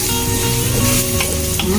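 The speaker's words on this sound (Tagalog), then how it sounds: "Gisa din natin ang sibuyas hanggang siya ay mabango" Onions sautéing in a pan, a loud, close, continuous sizzle with light stirring scrapes mixed in, over a brief span.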